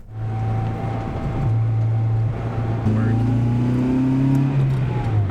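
Engine of a Honda Civic Si humming and revving gradually as the car pulls away for a test drive, with people talking in the cabin over the steady drone.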